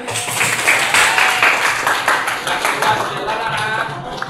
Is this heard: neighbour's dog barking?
no